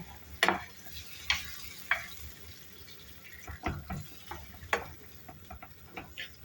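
A spoon scrapes and taps around a pan of grated tomato sauce in irregular strokes while it sizzles softly underneath, close and fairly quiet.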